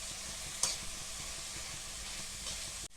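Red chilli powder, coriander powder, salt and masala for Kolhapuri misal sauté in a pan over high flame, a soft continuous sizzle with a few brief louder crackles and stirring scrapes.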